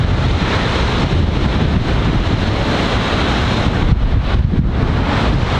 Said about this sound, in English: it is just pouring rain. In the distance there's the falls.